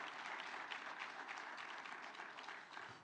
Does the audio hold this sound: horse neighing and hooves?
no